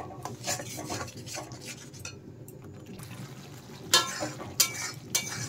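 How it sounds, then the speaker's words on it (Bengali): Ground spice paste sautéing in oil in a pan for a vegetarian potato and pointed gourd curry, with soft continuous sizzling, scraping and stirring, and a few sharp utensil clinks toward the end. "দেখেন মশলা কিন্তু খুব ভালোভাবে কষানো হচ্ছে।"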